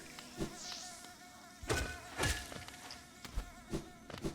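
Bees in the Hollow Knight video game buzz in a thin, whining drone, joined by repeated soft thuds and hits of combat, fairly faint overall with no talking.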